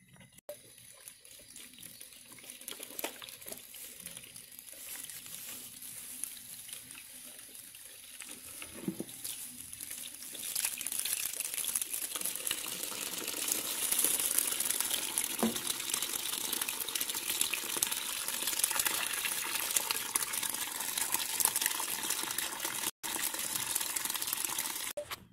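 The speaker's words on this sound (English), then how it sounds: "I'm going to put some more water in with some more salt." Tap water running steadily into a tub of live crawfish being refilled with salted water, a continuous splashing gush that grows louder and fuller about halfway through, with no talk.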